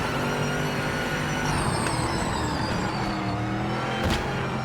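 A race car engine in the Project Motor Racing game drones steadily at high revs, with shifting pitch and a brief gear change midway, loud and continuous with no talking.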